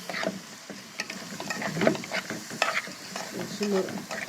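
Kofta is stirred as it fries in clarified butter, with close, soft sizzling and repeated scraping and stirring clatter in an irregular rhythm.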